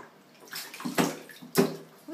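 Water splashing in a baby's bath at bath time, with a few brief, close splashes and sloshes spaced about half a second apart amid quieter dripping.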